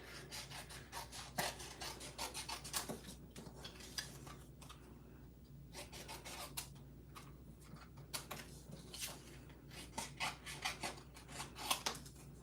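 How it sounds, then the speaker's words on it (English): Scissors snip through stamped cardstock pieces in a papercraft session, a quiet run of short cutting and rubbing strokes with irregular rhythm, close and soft with no talking. "We're going to use our scissors and cut these apart."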